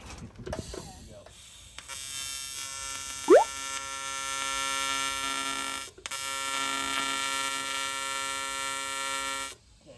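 Steady electrical AC hum from a welding machine during aluminum welding on a catamaran hull repair, a constant buzzing drone that breaks off briefly midway and resumes, with a short voice near the start.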